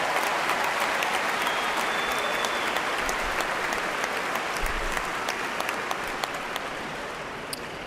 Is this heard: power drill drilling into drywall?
no